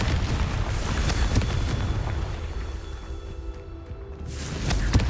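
Confringo fire spell exploding in Hogwarts Legacy, a string of sharp booming blasts with broadband bursts near the start and end, over a continuous rumbling game soundscape.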